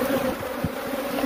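Bees buzz close up as a hive full of pollen and honey is being removed, a dense, continuous droning hum with no voices.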